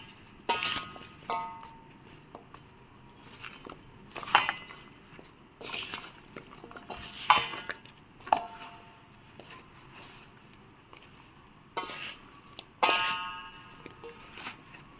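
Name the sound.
mixing mango pickle with a spoon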